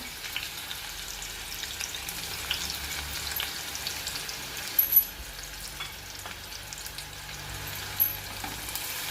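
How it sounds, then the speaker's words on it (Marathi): Finely chopped onion fries in hot oil with curry leaves, a faint continuous crackling sizzle with a few louder pops and clinks, close but quiet and without speech. "तेल तापलं आणि आता आपण हा बारीक चिरलेला कांदा घालूया"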